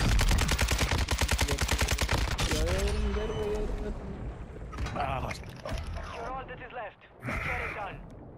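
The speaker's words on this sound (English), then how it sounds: "Somebody on the beach shooting at you." Rapid automatic gunfire in Call of Duty Warzone rattles loud and close for about three seconds, then fades into scattered shots and game sounds while a player talks.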